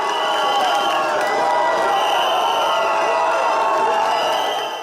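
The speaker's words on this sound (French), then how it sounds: "Des cris de victoire, des chants à la gloire de leurs champions et des pas de danse improvisés" A jubilant crowd at a party headquarters celebrates a presidential election victory, keeping up a dense, loud roar of shouts, whoops and chanting voices that runs unbroken throughout.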